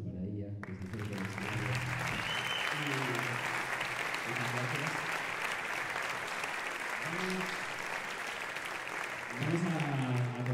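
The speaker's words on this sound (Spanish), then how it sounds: "aplauso para ella" Audience applause at a big band concert fills the room, steady and dense for the whole stretch, with a speaking voice cutting in over the clapping at several points.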